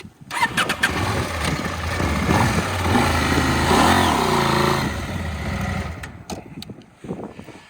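A dual-sport adventure motorcycle on a Simpson Desert crossing, its engine loud and close as it revs and runs continuously while being parked, then drops off toward the end.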